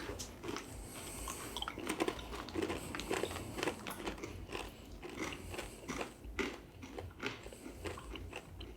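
Close, crisp crunching as salami crisps are bitten and chewed, repeated bites crackling irregularly with no talking.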